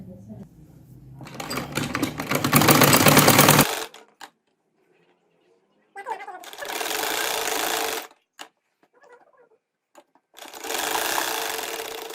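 A sewing machine stitches ribbon onto a dress neckline in three long, loud, steady bursts of rapid mechanical whirring, with quiet pauses between runs.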